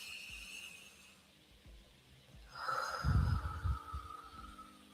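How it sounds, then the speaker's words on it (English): A person takes a slow, audible breath in during a calm guided grieving meditation, the soft inhale swelling near and alone without talk. "We're going to breathe in."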